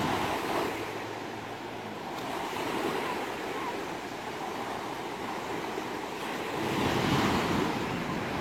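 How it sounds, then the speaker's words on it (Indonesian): Sea waves wash onto Mbatol Beach in South Malang at low tide, a continuous rushing surf with wind buffeting the microphone, swelling louder as a wave breaks near the end. "Air laut sedang surut, namun kurang lebih 1 jam lagi, air laut ini akan pasang dan ombak semakin besar."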